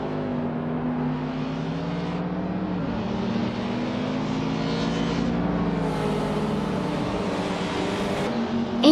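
Race cars in a racing video game hold a steady, droning engine roar with shifting pitch as several cars run together at the start of a race, continuous and fairly loud throughout.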